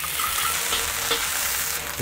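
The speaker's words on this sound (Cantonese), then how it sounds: "跟住落咗啲薑爆一爆佢先" Ginger hits smoking-hot oil in a wok and crackles into a loud, steady sizzle, with stir-frying scrapes through the two seconds and no voices.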